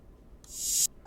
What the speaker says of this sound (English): It's just a reverse open hat,